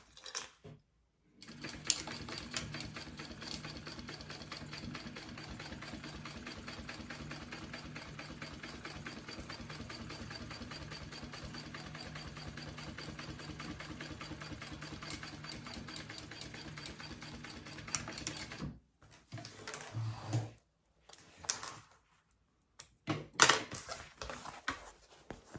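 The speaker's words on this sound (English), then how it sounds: "we're gonna top stitch along that bottom piece through that seam allowance" A sewing machine top stitches along a bag seam through the seam allowance, running steadily and fairly loud for about seventeen seconds. It then stops, followed by scattered clicks and handling noises.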